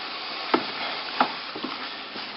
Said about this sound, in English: What I need to do first then is to mix in all the malt extract